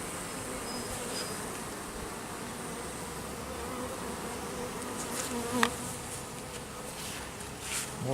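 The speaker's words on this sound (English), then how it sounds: "A lot of bees here." Honey bees buzz at an open hive during an inspection, a dense, close, unbroken drone with individual bees passing near, and no talking.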